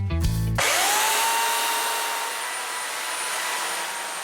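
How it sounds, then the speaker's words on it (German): A chainsaw run by a woodcarver cutting into a wooden log, starting with short choppy revving then settling into a loud, steady high-pitched whine that holds for several seconds up close. "Die Kettensäge."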